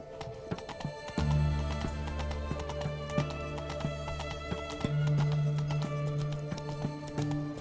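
Horse hooves in The Witcher 3 on Xbox Series X, a steady rhythmic clip-clop of galloping under a sustained game music score, with a brief short voice.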